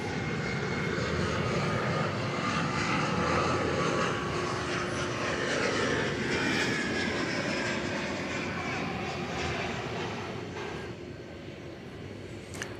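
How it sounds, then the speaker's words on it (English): An Airbus A321 airliner at DFW Airport gives off a broad, steady jet engine roar at a distance, fading slightly toward the end, with a voice speaking faintly beneath it. "It's the A321 aircraft."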